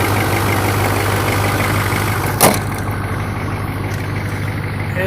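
A 2002 Duramax LB7 diesel pickup with cold air intake and EGR delete idles after a cold start, a loud, steady low rumble with a brief click midway.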